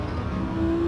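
A World Touring Car 900 in a racing game at Autopolis International holds its engine around mid revs, a loud, steady droning whir that rises slightly toward the end, with no talk.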